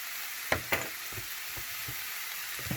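Cauliflower rice stir-fried in a pan, seasoned with paprika, gives a faint, steady sizzle with a few soft knocks from stirring and two sharper scrapes near the start.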